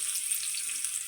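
Chopped onions sizzling in hot oil in a wok, a steady close hiss of frying without pause.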